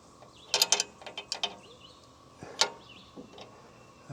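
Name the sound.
lowering the saw head of a bandsaw sawmill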